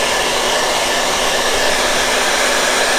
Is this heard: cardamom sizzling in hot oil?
no